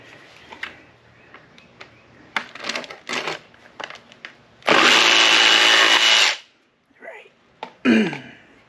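A blade works through a Kawasaki Z900 windscreen in short scraping bursts, then one long, loud rasping cut lasting about two seconds, followed by a few brief scrapes.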